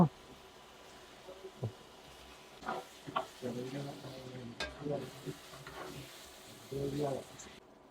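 About a kilo of meat sizzles and fries in a pan while being stirred, with scraping, clattering stir strokes and knocks rising over a steady low sizzle.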